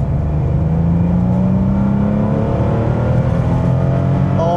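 A 1988 Porsche 911 Carrera 3.2 with an air-cooled flat-six accelerates continuously, its engine note rising steadily in pitch, loud and close throughout with a rough, throaty drone.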